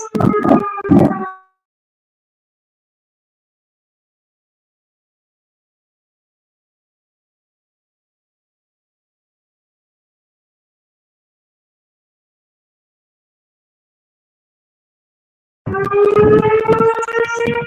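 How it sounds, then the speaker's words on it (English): Outdoor tornado warning sirens under test sound a wailing, harmonic tone that cuts off after a second, leaving a long silence before the wail returns and holds near the end, heard from a distance. "Yeah, they're testing the tornado sirens."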